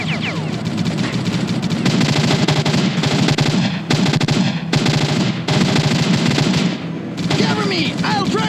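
Machine gun fire from the game S.T.A.L.K.E.R. Clear Sky crackles in rapid bursts alongside single shots and dull booms, loud and near, with someone speaking during the firefight.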